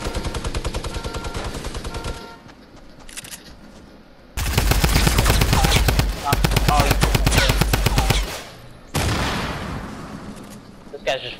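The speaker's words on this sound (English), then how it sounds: "I'm getting lasered with the minigun." Rapid minigun fire in Fortnite, loud dense bursts of rattling shots lasting a couple of seconds each, with pauses between volleys and a longer sustained stretch in the middle.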